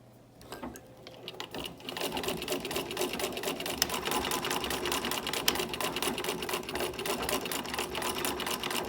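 A Singer 15-88 sewing machine stitching thin backed vinyl with right sides together, starting with a faint whir and settling into a fast, steady mechanical clatter that runs close and alone.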